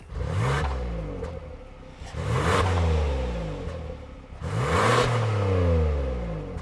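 A 2023 Kia Telluride X-Pro's 3.8-liter V6 revs up three times with a rising engine drone, each run climbing, then easing off before the next, heard clearly and without talk.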